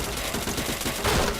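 Rapid gunfire bursts from a mobile shooter game played in a group match, dense and continuous with a louder burst near the end, no talk.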